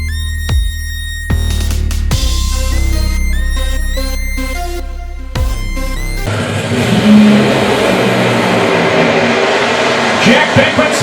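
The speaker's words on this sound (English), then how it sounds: "Jack Beckman smokes the tires, and John Force is going to the final round" NHRA Funny Car drag racing at the 2019 Northwest Nationals in Seattle, with the tires smoking on the run. A loud roaring engine rises through several revs and then gives way to a broad, rough wash of noise, under a commentator's voice.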